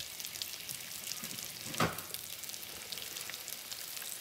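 Potato cakes fry over reasonably high heat in a pan, giving a soft, steady crackling sizzle with one brief louder pop partway through.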